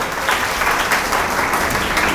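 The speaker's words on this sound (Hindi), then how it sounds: "बहुत अच्छी सारी तालियां तो बनती है" Audience applause at a Montessori diploma event, a dense, loud burst of clapping filling the room with no speech over it.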